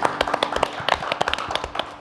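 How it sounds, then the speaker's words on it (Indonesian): A live audience breaks into a short burst of dense, lively hand clapping. "Tepuk tangan dong sekali lagi buat."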